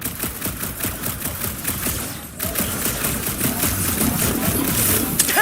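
Rapid bursts of blaster fire in a Guardians of the Galaxy video game, a steady rattling stream of loud shots that grows denser and heavier partway through.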